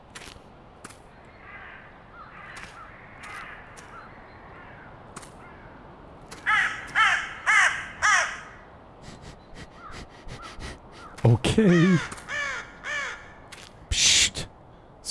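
Crows caw from the dark woods of the horror game The Cursed Forest: a burst of four harsh caws, then a rougher run of calls and a final sharp cry, with a short spoken word early on.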